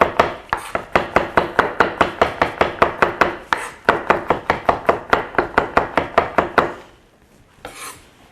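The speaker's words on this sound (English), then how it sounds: "Let's chop that parsley up there." Parsley being chopped with a knife on a cutting board for a sweet corn and sweet potato soup, a steady run of about twenty-five close, crisp knocks in quick rhythm with a short pause midway, then quiet.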